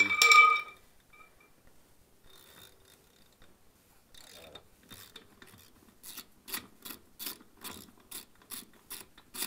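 A ratchet wrench loosens a wheel bolt on a Citroën 2CV kit car: a loud metallic clank opens, then quiet fiddling, then a steady run of sharp, evenly spaced ratcheting clicks, close by with no talk.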